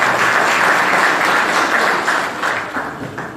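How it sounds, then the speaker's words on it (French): A large audience at a festival event in Tabarka, Tunisia applauds loudly, a dense, steady wash of clapping that holds strong for a few seconds and then begins to thin slightly toward the end. "On l'applaudit très fort."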